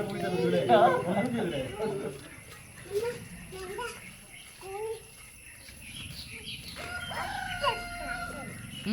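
A rooster crows and chickens cluck nearby, mixed with children's excited voices talking over the birds.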